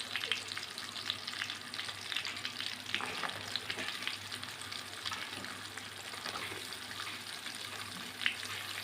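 Chopped onion frying in a pan for a chicken stew, a steady dense sizzle crackling throughout with occasional stirring scrapes, close and continuous with no speech.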